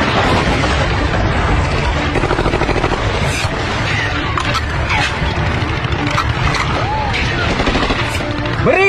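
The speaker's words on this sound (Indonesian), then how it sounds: "Beri tembakan perlindungan kepada kumpulan tuan." Loud bursts of automatic gunfire rattle continuously, dense and close, mixed with shouting voices and the rumble of engines.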